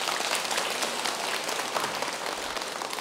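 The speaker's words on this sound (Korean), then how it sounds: "합창단에게 박수 한번 주세요" Applause for a temple choir during a Sunday Buddhist service, a dense, hissing patter of many hands clapping at once, steady and fairly loud for a few seconds with no voices.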